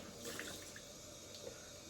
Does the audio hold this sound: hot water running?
yes